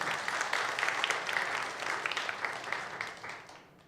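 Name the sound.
congregation applauding prize winners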